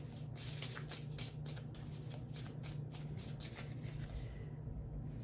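Animal oracle cards riffled and shuffled by hand in a steady run of crisp, papery bursts, close and fairly quiet, over a low background hum, fading near the end.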